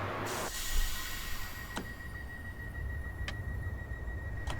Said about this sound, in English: Ooh, train